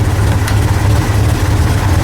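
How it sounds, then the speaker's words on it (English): A 1965 Chevrolet Corvair with its air-cooled flat-six running at idle around 500 to 600 RPM, close and loud. It makes a steady low rumble with an even throb and no voices. "We are currently idling at about 500 to 600 RPMs"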